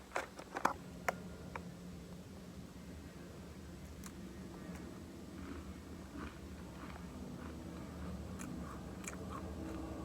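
Someone chews a crunchy peanut butter cookie close to the microphone, with a few sharp bites and crunches at first, then softer, irregular chewing over a quiet background.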